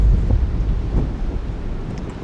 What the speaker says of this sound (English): It's really windy today, by the way.